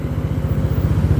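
A Honda Stylo 160 scooter engine idles up close, its low, rapid pulsing thrum steady and continuous with a faint rattling vibration.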